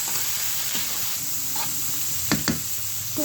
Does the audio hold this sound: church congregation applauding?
no